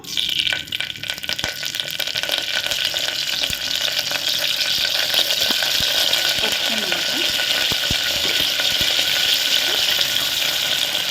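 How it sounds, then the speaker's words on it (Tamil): Mustard seeds and curry leaves hit hot oil in a pan while making aviyal, a loud, steady crackling sizzle with scattered sharp pops throughout. "எண்ணெய் வந்து நல்லா சூடாகிடுச்சு நம்ம கடுகு போட்டுக்கலாம் கொஞ்சம் கருவேப்பிலை"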